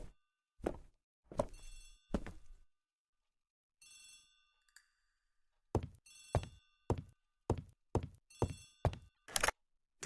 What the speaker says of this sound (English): The telephone in the hall is ringing.